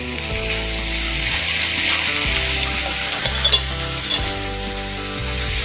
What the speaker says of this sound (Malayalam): നമ്മൾ നേരത്തെ സോട്ട് ചെയ്ത് വെച്ച് ചിക്കൻ ഇതിലേക്ക് ഇട്ട് കൊടുക്കാം